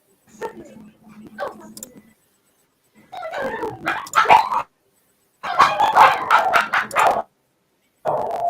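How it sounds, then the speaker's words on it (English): A dog barks and yips in short bursts during a live home broadcast, loud and close, interleaved with brief pauses and a little background talk. "Sounds like the dog heard the bag crinkling."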